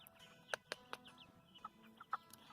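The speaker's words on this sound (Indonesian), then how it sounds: "Itu ayam-ayam" Chickens clucking in a backyard coop at a Minnesota home garden, a handful of short, sharp clucks spaced irregularly over a low, faint background murmur.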